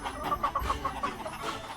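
Chickens on a farm give a run of soft, quick clucks at a moderate distance, fairly quiet, with no talking over them.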